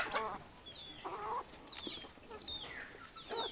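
Fayoumi chickens clucking close by in short, scattered bursts, with a few higher squawks mixed in and no one speaking.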